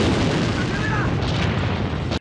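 Barrels explode in a film scene with a loud, sustained roaring blast that fills the whole moment, dense and rumbling, with faint speech blended underneath before it cuts off abruptly.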